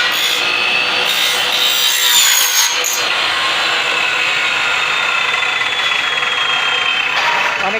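A cutting machine slices aluminium door and window frames in a showroom workshop with a loud, continuous high-pitched grinding screech that rises and falls slightly as the blade bites, with no pauses.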